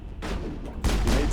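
Gunfire in the video game Mass Effect comes in two short, loud bursts of shots, close up with no talking.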